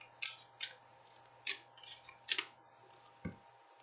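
A few quick papery riffles of cards in separate bursts, close and fairly quiet, with a soft tap near the end.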